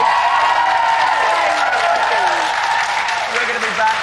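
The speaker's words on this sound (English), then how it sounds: "please give it up for Jenny" Studio audience applauding for a guest named Jenny on a TV show, a steady wash of clapping with some cheering that holds for several seconds and fades slightly near the end.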